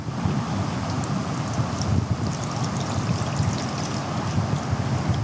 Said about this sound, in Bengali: এখন আমরা তেলটা ঢেলে ফেলবো।